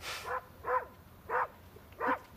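A dog barks four times at an even pace, short bright yaps spaced about half a second apart, moderately close with a faint background hiss.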